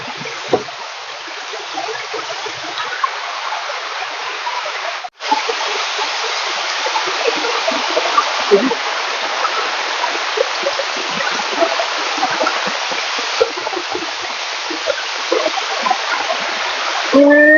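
Rainwater rushing and flooding around a house in heavy rain, a constant broad roaring wash of water that stays loud and steady, with a brief break partway through.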